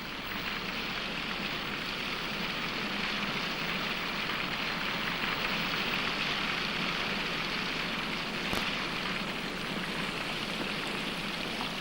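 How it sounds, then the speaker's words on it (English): Heavy torrential rain pours steadily over a golf course, a dense continuous hiss without pause or voices for the whole stretch. "Torrential rain floods the course, and the excitement rises."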